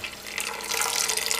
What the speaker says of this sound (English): Let some of the water drain.